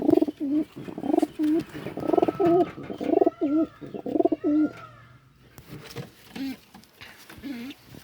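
A bird coos near its nest in repeated soft, throaty phrases, close and fairly loud, with a short pause midway before the cooing resumes.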